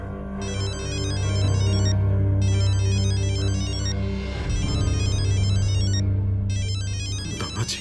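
A phone ringtone chirps in repeated bursts with short pauses between, playing over a steady background of music or hum.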